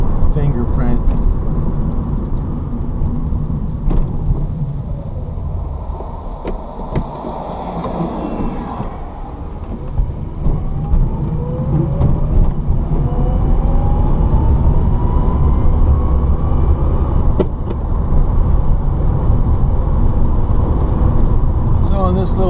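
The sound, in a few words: electric VW Beetle driving on road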